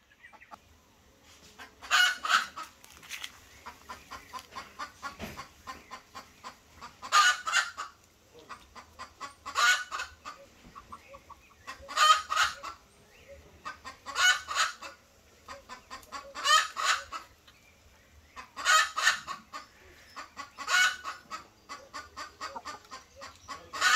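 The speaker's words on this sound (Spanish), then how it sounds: "Están poniendo mis gallinas," Laying hens cluck nearby in repeated bursts every few seconds, rising in a cackling rhythm with quieter gaps between, and no one talks.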